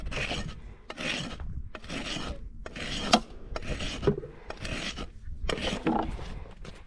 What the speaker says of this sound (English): So smoothly rasping that whole half of the foot.